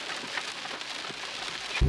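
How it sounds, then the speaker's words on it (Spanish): Torrential rain pouring down suddenly in Worms, Germany, a steady dense hiss of heavy rainfall with a louder burst near the end. "Se largó a llover, pero no un par de gotitas. Torrencialmente, miren lo que es esto."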